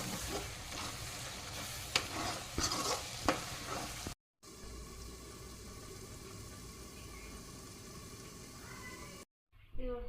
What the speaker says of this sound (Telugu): కారం వేసుకొని మంచిగా కలుపుకున్న తర్వాత చింతపండు రసం పోసుకుంటే సరిపోతుంది